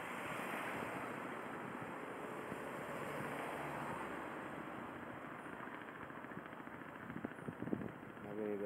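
Ocean surf at Praia de Casa Caiada beach in Olinda, Pernambuco, where faint, continuous waves wash in under wind buffeting the microphone.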